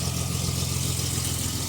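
A Datsun 280ZX engine idles close by with a partly repaired exhaust, a steady low throbbing rumble holding an even pulse throughout with no voices over it.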